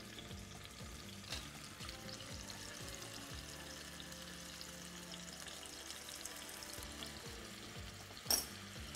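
Tomato wedges and a clove of garlic fry in oil with a faint, steady sizzle, quiet and continuous throughout, with a brief clatter near the end.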